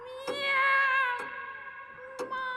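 A cat gives a long, drawn-out meow, then a softer trailing one, with a few sharp clicks or knocks punctuating the quiet background.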